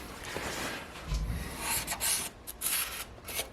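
A marker or scribe rubs and scratches across the metal of a Mercedes W109 steering box mount, with short repeated strokes up close and quiet pauses between them.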